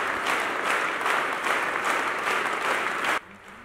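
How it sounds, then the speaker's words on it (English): A church congregation claps continuously in a long record-setting applause at a Phaneroo Ministries gathering, a loud, dense sustained roar of hands that cuts off abruptly near the end, leaving quiet room tone. "the sound of the applause had to remain above 80 decibels"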